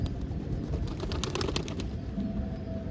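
Pigeons cooing inside a coop housing young birds, low soft coos and faint rustling over a steady background hum, with occasional wing movement.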